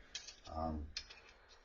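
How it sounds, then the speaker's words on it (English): A few short scraping strokes as cheese is scraped off, two bursts of rasping scrapes with a low thud between, close by and fairly quiet. "I'm gonna scrape some of this cheese off here."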